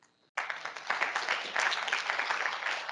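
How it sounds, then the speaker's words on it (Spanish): Audience applause for a doctor at a cardiology symposium starts abruptly after a moment of near silence and continues as steady, moderately loud clapping from a room full of people. "Un aplauso para la doctora."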